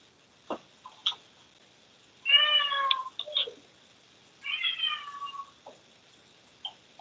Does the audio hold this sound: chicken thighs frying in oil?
no